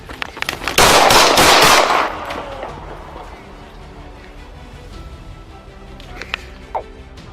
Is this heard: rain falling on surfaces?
no